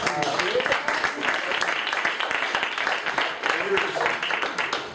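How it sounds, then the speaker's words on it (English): An audience claps continuously for the full stretch, dense, even applause from a room full of people, with a voice talking over it. "thank you for clapping"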